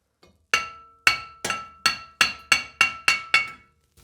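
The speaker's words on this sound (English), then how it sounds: "Couple taps with the hammer, and it'll come right off" Roughly eight sharp metallic hammer taps ring out on a stuck original front brake rotor of a 1997-2006 Jeep Wrangler TJ, evenly spaced and close, each strike leaving a brief bright ring.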